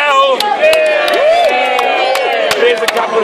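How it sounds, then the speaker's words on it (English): A crowd cheering, whooping and clapping at a crab race during a hotel beer festival in Australia, loud and close, with short sharp claps and excited voices throughout. "can I please get a big cheer for Rochelle?"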